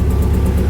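A Nissan 240SX S13 engine idles with a steady, loud low rumble and an uneven pulsing beat from a misfire, with no voices.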